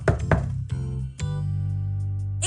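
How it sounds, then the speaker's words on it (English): Knock on a door in a Cinderella puppet theater show, a few dull wooden thuds followed by a sustained low musical tone, with no talk over it. "she heard the knock on the door"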